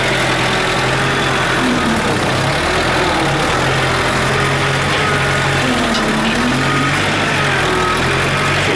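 A large wheel loader's diesel engine idles steadily, a low, even rumble with a faint rhythmic pulse, close and continuous throughout.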